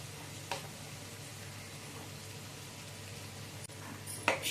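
Chopped tomatoes fry in ghee in a pan, giving a faint, steady sizzle over a low hum, with a couple of soft clinks or scrapes near the start and end.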